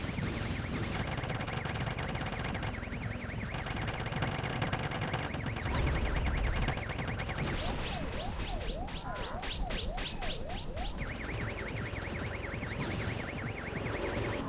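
Rapid automatic gunfire in the mobile game Rope Hero Vice Town, dense continuous bursts over a constant game soundtrack with a brief wavering siren-like tone in the middle.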